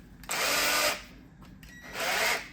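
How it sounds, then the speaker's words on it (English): An electric drill spins an oil pump adapter on a 1970 Triumph TR6 in two bursts, each a whining whir lasting over half a second with a brief quiet gap between, close and loud. "I'm gonna put it in a drill, not in a screw gun"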